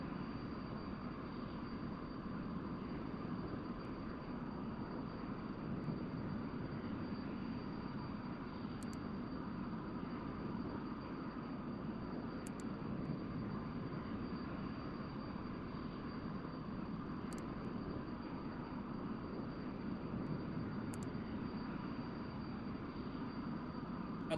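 An F-100D jet's engine in the DCS flight simulator makes a steady, broad, low roaring drone that carries on evenly at moderate level, with a few faint clicks scattered on top.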